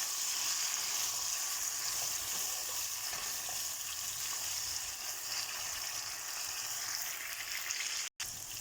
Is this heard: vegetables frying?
yes